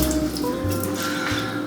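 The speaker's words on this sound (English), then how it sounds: "I want to wash my hands again" Running tap water splashing and dripping over hands at a kitchen sink, a steady close wash with soft squishing of wet palms, no talk.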